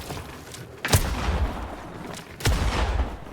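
Two heavy gunshots from a first-person shooter game, each a sharp boom with a rumbling tail, spaced about a second and a half apart over a low background.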